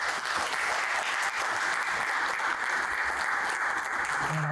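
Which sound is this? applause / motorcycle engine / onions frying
applause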